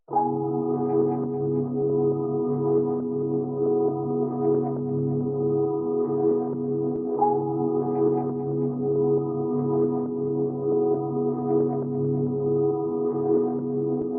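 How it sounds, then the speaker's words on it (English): A soft, sustained synth pad drones evenly with gentle swells and slight movement, mellow and continuous throughout, no voices. "kind of like pad synth sound"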